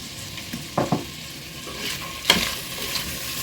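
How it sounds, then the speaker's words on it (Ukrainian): Diced onion sizzles steadily in a hot pan over high heat while a utensil scrapes and stirs, giving a few sharp knocks against the pan, close up. "Постійно перемішую, щоб цибуля не перегоріла."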